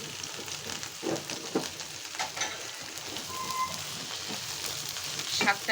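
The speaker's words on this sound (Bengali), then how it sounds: "এবার আমি শাকটাকে কড়াইতে দিয়ে দিচ্ছি" Chopped bottle gourd leaves hit a hot kadai and fry with a soft, steady sizzle, faint and close, broken by a few light stirring scrapes.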